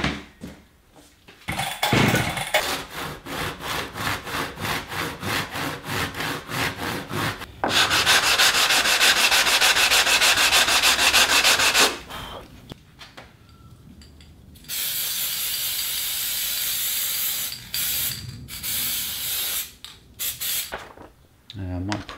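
An MDF wood template for a small tube amp chassis is cut in close, loud bursts of rasping, buzzing cutting noise, separated by short quiet gaps.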